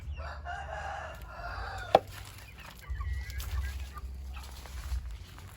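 Chickens in a newly built coop on a farm, with a rooster crowing and hens clucking at moderate distance, a sharp knock partway through and low background rumble, no speech.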